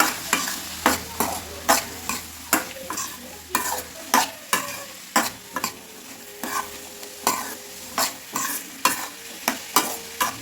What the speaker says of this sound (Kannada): ಬೀನ್ಸ್ ಎಲ್ಲ ಹಾಕ್ಕೊಳ್ತಾ ಇದ್ದೀನಿ ಇದನ್ನು ಚೆನ್ನಾಗಿ ಮಿಕ್ಸ್ ಮಾಡ್ತಾರೆ